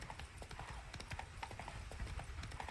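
Horse hooves clip-clop steadily in The Witcher 3: Blood and Wine, a continuous close trotting rhythm with a faint neigh-like tone mixed in over game ambience.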